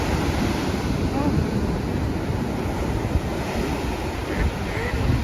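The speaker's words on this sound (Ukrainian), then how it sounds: "О, дивіться, яка здоровенна хвиля" Big ocean waves crash and roar continuously on a beach in Vietnam before a possible typhoon, a loud, dense surf wash with wind buffeting the microphone throughout.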